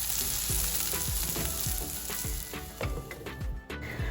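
Tindora (ivy gourd) curry crisps in a pan, a close, continuous sizzle broken by regular scraping stirs of a spatula against the pan, with no one speaking.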